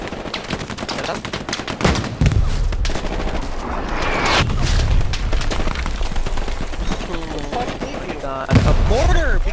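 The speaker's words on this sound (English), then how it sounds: "Because someone can just fire mortars in!" Mortar fire and battlefield gunfire in the video game Hell Let Loose: dense rapid shots and bursts throughout, with heavier booming impacts, while a voice talks faintly underneath.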